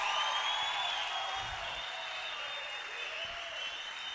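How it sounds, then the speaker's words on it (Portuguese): A church congregation applauds during a service, giving sustained, even clapping from a large crowd that continues steadily from start to end. "Agora eu quero que vocês aplaudam mesmo a vida deles."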